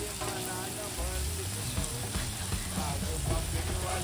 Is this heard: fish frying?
yes